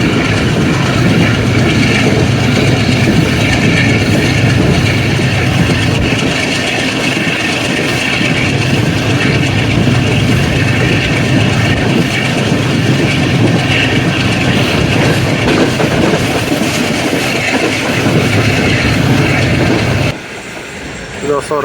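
Onboard the 25UP Zakria Express hauled by a Blue Tiger locomotive, a loud, steady rumble of rolling rail cars and engine fills the space, with rhythmic clatter throughout before a brief drop near the end.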